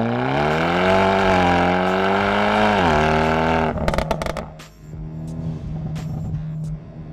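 A modified Hyundai Elantra N engine revs hard with rising pitch, then shifts and drops before pulling again with a throaty, rough growl close by.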